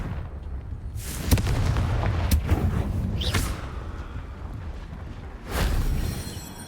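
Confringo fire spell blasts from the Hogwarts Legacy video game: several loud, booming bursts with sharp attacks, the last one a longer roaring blast, all over a low rumbling bed with no talk.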